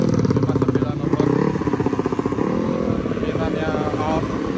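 Motorcycle engine of a bike bought from Thailand running nearby with a rough, pulsing idle and a few revs, loud and continuous.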